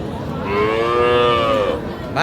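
A single loud, drawn-out moo comes from young cattle, bull calves and heifers, at the Raniganj livestock market, sounding close and rising then falling over about two seconds against a low murmur of background noise.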